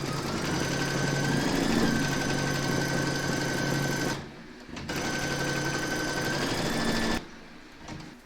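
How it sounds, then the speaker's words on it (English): An embroidery machine steadily stitching a shark bookmark in the hoop, a loud continuous whirring hum that dips twice in short pauses and then resumes. "Pop your hoop into your machine and stitch round number 3 to secure it."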